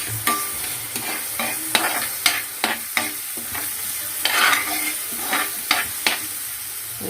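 Garlic frying in hot oil, a steady sizzle laced with repeated scraping clicks of a utensil stirring the pan, close and moderately loud, with no talking.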